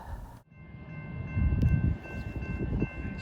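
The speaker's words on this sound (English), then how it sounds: "So we have an Amtrak train." A passing Amtrak passenger train at Granite City, Illinois: a steady low rumble of wheels and cars swelling as it passes close by, with a faint sustained horn tone above it and no talk.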